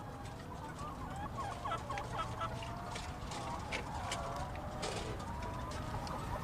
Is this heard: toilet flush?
no